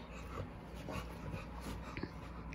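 Dog whimpers and pants at close range in a home, soft high whines and breathy huffs that come in short irregular bursts over a low background murmur.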